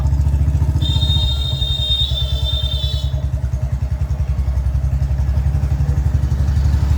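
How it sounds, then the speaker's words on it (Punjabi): A Royal Enfield Bullet motorcycle engine thumps along in a steady, rapid low beat close by in Patiala, with a brief high whine early on fading out. "ਆਵਾਜ਼ ਜੇ ਜਿਆਦੀ ਬੁਲਟ ਦੀ ਆਉਂਦੀ ਹੋਵੇ"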